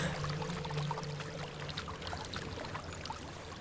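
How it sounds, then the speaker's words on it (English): Waterfall in the Hellblade: Senua's Sacrifice video game, a steady soft rush of falling water heard faint and continuous with a low hum underneath. "There's a waterfall."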